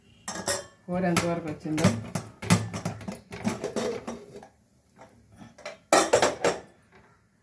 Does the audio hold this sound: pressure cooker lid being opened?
yes